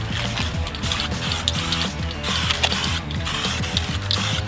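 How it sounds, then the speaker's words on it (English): An aerosol can sprays black paint onto a bicycle chassis in loud, close hissing bursts with short pauses between passes, the spray rattling and sputtering throughout. "I'm going to spray this chassis black."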